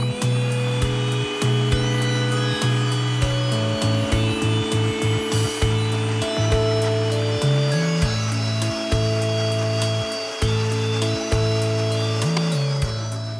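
An electric blender whirs through coconut and sugar for a coconut lassi, its loud, gritty motor surging and dipping in pitch in rapid pulses as the blades catch and release, with no voices over it.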